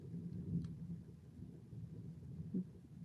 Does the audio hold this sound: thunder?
yes